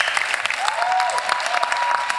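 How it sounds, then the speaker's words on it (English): Applause from a church congregation fills the space with steady, dense clapping at close range, holding evenly from start to finish. "let's just give them a big round of applause"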